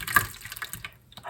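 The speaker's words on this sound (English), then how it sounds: "I feel like I'm splashing this everywhere." Tomato liquid splashes softly into a large baking pan in a home kitchen, a few faint sloshing pours with brief pauses.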